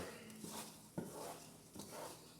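Quiet scraping of a spoon stirring homemade New Orleans praline candy in a pot, with a few soft knocks against the pot, close but faint, and no talking.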